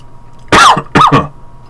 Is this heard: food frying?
no